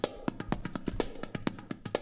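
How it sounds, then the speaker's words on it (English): A doumbek drum played in a room, a quick run of crisp, close strokes mixing deep resonant hits with sharp bright slaps in a lively rhythm. "A foreign drum like a dudebek, which sounds like this."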